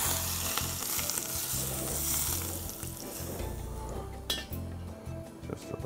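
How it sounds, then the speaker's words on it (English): Hot oil is poured over a plated ginger fish, setting off a loud, crackling sizzle that fades gradually, with a few clinks of utensils against dishes. "take a little bit of this hot oil and put it right on this fish"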